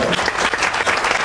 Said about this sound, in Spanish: Pues felicidades, un aplauso para el ganador.